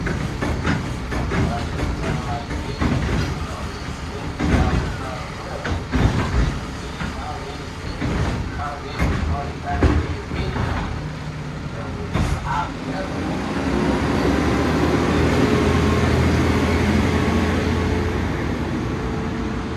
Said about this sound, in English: sorry, garbage truck's going by